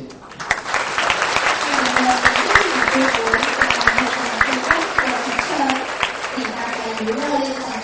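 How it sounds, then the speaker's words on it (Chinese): Warm applause from a school audience for the principal at an awards ceremony, steady crowd clapping that runs the whole time beneath a voice speaking over it. "热烈的掌声，谢谢校长"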